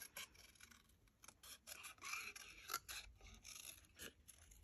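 Scissors cut through a paper craft pocket folder, giving close, quiet snipping and rasping scrapes in an uneven rhythm over several seconds, with no talking.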